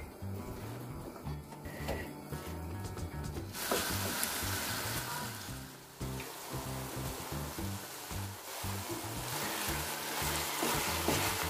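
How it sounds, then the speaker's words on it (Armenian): Minced meat and onion frying together in sunflower oil, giving a steady, dense sizzle and crackle. It is close and continuous throughout, with no talking. "Միսը տապակվում է սոխի հետ միասին"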